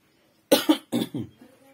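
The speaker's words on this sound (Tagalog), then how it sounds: "inuubo tayo guys" A couple of close, sharp coughs in quick succession, followed by a brief throaty rasp, with near silence before.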